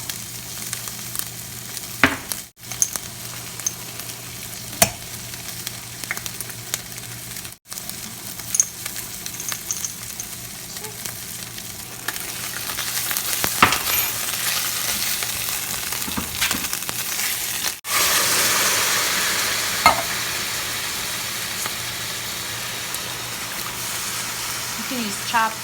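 A pan of beef lasagna sauce with oregano sizzles and simmers steadily while a spoon stirs it, with occasional scraping and clinks over a continuous frying hiss that swells louder toward the middle.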